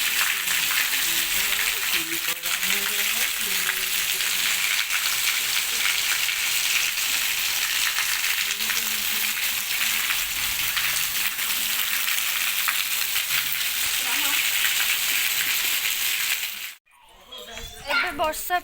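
Heavy rain pours steadily as a dense, loud hiss throughout, with faint voices underneath, before it cuts off abruptly near the end into a brief muffled sound.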